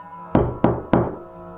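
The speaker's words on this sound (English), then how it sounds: "At 2:15, 3 more knocks." Three loud, evenly spaced knocks on a door at night, sharp close thuds each trailing off briefly, with quiet room tone around them.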